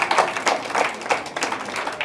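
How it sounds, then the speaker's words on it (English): Applause from an audience at an Ayurveda Day celebration and award function, a steady wash of many hands clapping close by, dense and even with no voices over it. "Please, a big round of applause, please."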